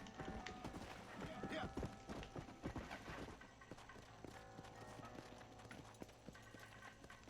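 Galloping horse hooves in the video game Red Dead Redemption, a rapid clip-clop rhythm that stays close and fairly quiet, with a brief background voice and game ambience underneath.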